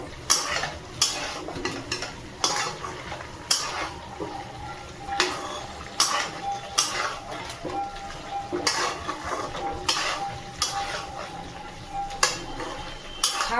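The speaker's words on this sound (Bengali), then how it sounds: "ভালো করে একটু নেড়ে চেড়ে নেব" A spoon stirs butter chicken in a pot, giving repeated scraping clanks against the metal every second or so over a soft simmering sizzle, with quiet background sounds between strokes.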